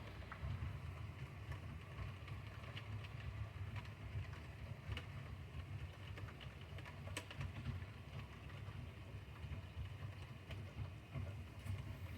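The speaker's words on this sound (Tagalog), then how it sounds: "lakas ang ulan, no?" Steady, dense patter of heavy rain with a low rumbling wash underneath, continuous and fairly loud, with occasional sharper drips on top.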